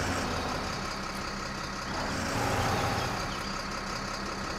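In the Spin Tires game, a Ford F-350 truck engine drones at a steady low rumble that swells briefly as it pulls off-road, continuous and mid-level, with no talk.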